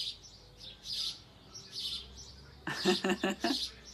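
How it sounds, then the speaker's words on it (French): Small birds chirp repeatedly along an outdoor path in a series of high, bright tweets of moderate loudness, with a person talking briefly near the end. "Et les oiseaux nous accompagnent."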